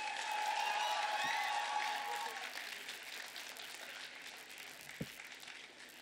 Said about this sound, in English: Let's welcome them on stage with a louder round of applause.